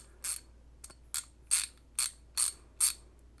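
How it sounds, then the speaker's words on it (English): A quarter-inch drive quick-release ratchet wrench from a 192-piece mechanics tool kit clicks in seven sharp, bright ticks at a fairly steady pace, close and clear against a quiet background, with no voices. "That is actually a very nice feeling wrench."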